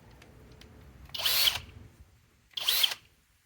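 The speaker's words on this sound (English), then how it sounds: "Flex turbo hammer drill," Flex FX1271T turbo hammer drill powered by a 6 amp stacked lithium battery, revving in two short bursts of about half a second each with a pause between, close and loud with no talk.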